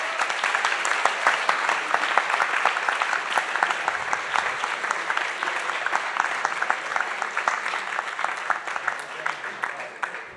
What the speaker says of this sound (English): one last round of applause for all of ourselves